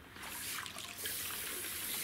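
Water gushes steadily from a garden hose like an open tap, a faint continuous splashing rush outdoors with no speech over it.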